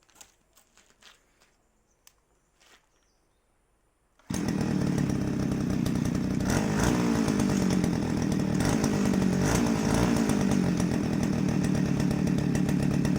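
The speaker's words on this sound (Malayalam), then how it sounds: "അപ്പോൾ നമ്മുടെ ബ്രഷ് കട്ടർ സ്റ്റാർട്ടായി" After a few quiet seconds of faint knocks, a petrol brush cutter engine bursts into life and keeps running loud and steady with a buzzing, revving drone.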